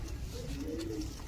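A female Giribaz pigeon of kalanka colouring gives one short, low coo, held close by hand against a faint steady background.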